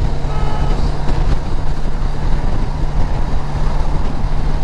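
A car drives fast downhill on the old Mumbai-Pune highway at about 100 km/h. Loud, constant road and engine roar runs throughout with a steady low hum and no talking.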